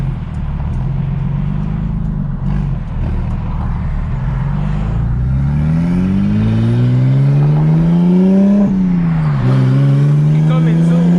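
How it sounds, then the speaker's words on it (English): An 800 HP big-turbo BMW 335i engine revs continuously and loudly, pitch climbing steadily with rising RPM, dipping briefly, then rising again, with faint voices underneath. "So the higher up the RPM you go, the louder it gets."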